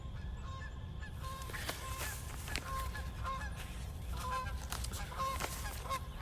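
Geese honk continuously across a meadow at moderate distance, overlapping calls forming a busy chorus over a steady outdoor background hiss.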